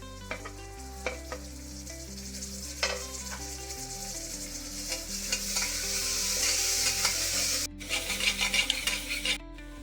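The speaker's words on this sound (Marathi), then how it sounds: "कांदा झालेला आहे, टोमॅटो टाकते." Chopped tomatoes hit onions frying in a pan for a potato curry, bringing steady sizzling with repeated scraping and stirring of a spoon against the pot, close and continuous, no talk.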